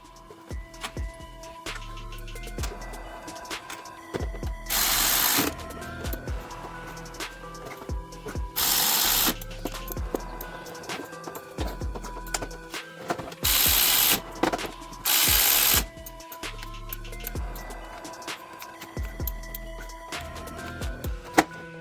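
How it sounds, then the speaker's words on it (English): Bolts threaded back into the bottom yoke of a Suzuki Bandit motorcycle to secure the forks, with a ratchet wrench clicking in quick runs of turns and several louder bursts of clanking metal, close by and with no talk. "it's now time to put these bolts back in the bottom yoke to secure the forks"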